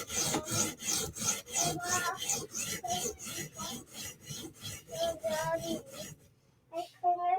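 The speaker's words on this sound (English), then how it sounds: "Do one more pass per side at the 120." A Spyderco Sage knife with REX 121 steel is drawn across a 120 grit sharpening stone in a quick, even series of about twenty raspy strokes, close and clear, then stops. A short voice follows.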